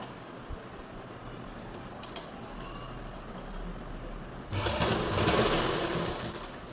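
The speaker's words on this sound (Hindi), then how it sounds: "तो अब हम इसके ऊपर से एक यहाँ से किनारे से सिलाई और लगा लेते हैं।" A sewing machine runs steadily along the edge of a salwar belt, first at a quieter hum, then louder and faster for the final stretch of stitching.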